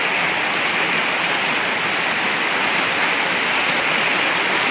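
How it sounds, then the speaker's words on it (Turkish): Heavy storm rain pours down over a garden in a loud, dense, unbroken hiss of drops hitting the ground, with no voices. "yağmur tekrardan başladı"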